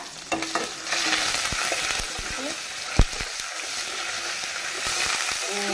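Curry leaves dropped into hot oil in a home kitchen during Goan Konkani cooking, giving a steady close sizzle and frying hiss with stirring scrapes and a sharp clatter partway through.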